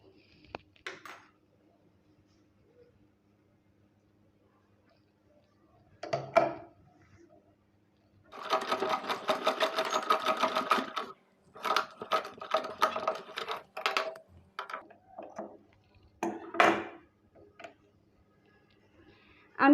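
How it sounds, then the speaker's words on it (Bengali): A sewing machine stitching a rubber band for a fabric hair band, running in short rapid bursts of close mechanical chatter separated by quiet pauses, with the longest run lasting a few seconds. "আমি সেলাই করে নিচ্ছি।"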